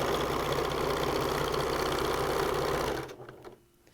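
A sewing machine runs steadily, stitching binding onto a T-shirt quilt, with a fast, even mechanical whir close up for about three seconds before it slows and stops, leaving quiet handling noise.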